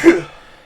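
A single sharp sneeze bursts out close and loud, then fades quickly into silence.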